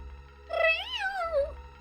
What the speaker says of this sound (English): Oh, hello, both cats.